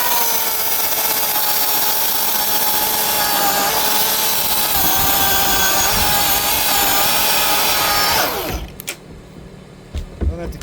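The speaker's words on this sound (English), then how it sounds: "these Milwaukee saws are something else. Nice and quiet, not damaging your hearing." A battery-powered Milwaukee saw cuts through tree branches with a loud, continuous buzzing whine for about eight seconds, then stops abruptly, leaving a few faint knocks and rustles.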